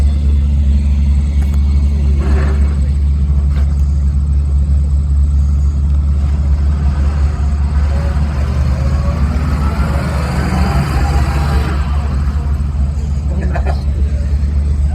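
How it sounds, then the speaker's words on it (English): An early-war military vehicle drives and turns at a regiment museum show in Ontario, its engine a steady, loud low rumble that never lets up, with muffled voices faintly underneath. "it's one of the most unique and maneuverable vehicles that we had in that early part of the war"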